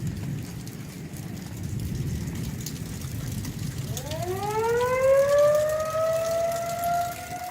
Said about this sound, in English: There goes the sirens again.